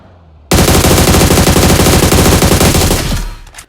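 Sustained automatic gunfire in the mobile battle-royale game BGMI, a loud unbroken burst of rapid shots lasting about three seconds before tapering off, with no talk over it.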